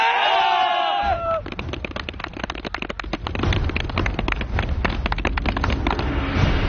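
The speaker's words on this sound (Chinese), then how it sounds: "欢呼吧。" Soldiers cheer as a crowd at the end of a two-day mountain military competition, a loud roar of voices mixed with bursts of noise that follows a single shouted voice.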